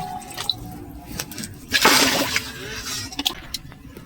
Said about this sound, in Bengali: কড়া চাপিয়ে দিয়েছি, জল দিয়ে দিচ্ছি।